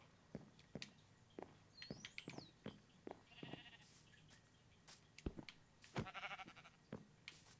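Sheep in a video game bleating faintly in short, scattered calls over a quiet background, mixed with clicks, brief chirpy blips and soft game effects.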